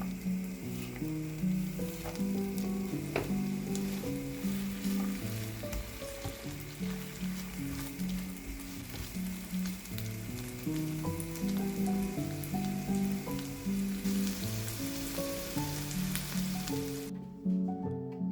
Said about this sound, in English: Sauté the red onion and shallot.